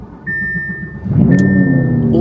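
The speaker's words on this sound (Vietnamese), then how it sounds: "Mà cái nổ máy á, nào mọi người nghe, lắng nghe nha." V10 car engine, mounted at the rear, starting with a soft idle then swelling into a loud rev with a rising, sustained roar close by, faint talk barely present.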